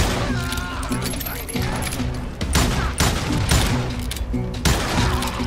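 Enemies in Call of Juarez Gunslinger fire a dense, continuous volley of close gunshots that crack and boom without a break, mixed with loud Western shootout ambience.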